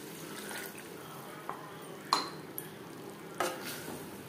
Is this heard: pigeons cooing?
no